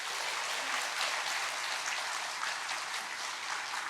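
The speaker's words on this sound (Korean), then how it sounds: "다시 한번 하나님께 영광의 박수 올려드리겠습니다." Steady, dense applause from a large church congregation at a Sunday service, continuous and even throughout with no voices standing out.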